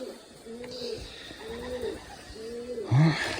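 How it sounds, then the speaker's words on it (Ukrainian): Pigeons gathering as a flock, giving a series of close, repeated soft coos in a steady rhythm, with a louder, rougher call at the end. "Це непогані голуби."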